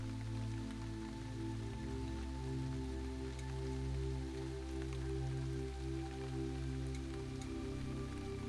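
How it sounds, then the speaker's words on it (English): Steady rain falls continuously, a soft dense patter of drops mixed with a low droning hum throughout. "As you intently listen to this rain,"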